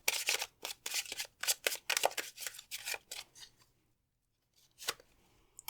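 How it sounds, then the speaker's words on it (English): A deck of tarot cards is riffled and shuffled repeatedly in quick, crisp bursts close up, then a pause and one last short shuffle. "Let's shuffle that again."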